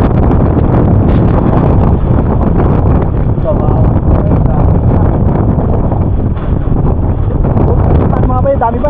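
Strong wind buffets the microphone on an island coast, a loud continuous roar with gusting rumble throughout, while people talk over it and boats are nearby.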